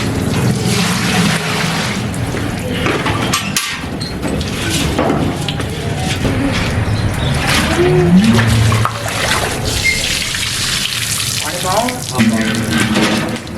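Water poured into a large pot for a 22 kg batch of degi chicken pulao, a loud steady gushing and splashing with people talking over it.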